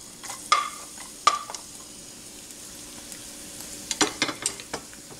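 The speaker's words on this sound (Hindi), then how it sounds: "और गार्लिक को हमें सिर्फ साते ही करना है, इसको जलाना नहीं है बिल्कुल भी।" Garlic sautés gently in oil in a pan at medium flame, giving a soft low sizzle broken by several sharp stirring scrapes and clinks of a utensil, close and fairly quiet.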